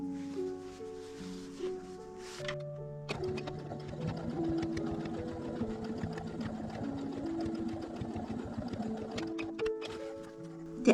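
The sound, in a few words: sewing machine stitching a bag's turning opening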